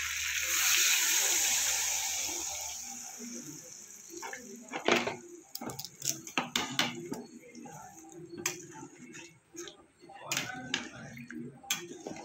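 Water is poured into a pan of taro and potato curry cooked with spices, giving a brief splash and slosh followed by scattered clinks and stirring taps.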